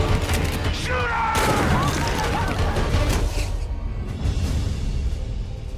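Heavy gunfire in a film trailer for Legion, a dense, loud fusillade of shots and booms running throughout, with voices shouting over the battle.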